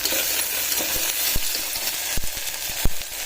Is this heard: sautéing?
yes